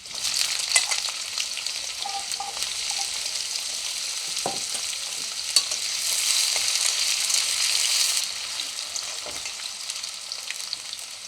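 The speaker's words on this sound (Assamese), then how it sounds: "আৰু এতিয়া সৰু সৰুকৈ কাটি লোৱা আলুখিনি এড কৰিলোঁ।" Chopped potatoes sizzle steadily in hot oil in a pan, a continuous bright frying hiss with a few soft clicks and stirring knocks, close and clear with no talking.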